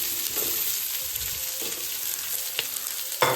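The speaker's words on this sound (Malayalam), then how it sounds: "ഉള്ളിയും പച്ചമുളകും ഇടാം." Chopped onions and green chillies hit hot oil in a pan, giving a steady close sizzle with a few sharp stirring clatters near the end.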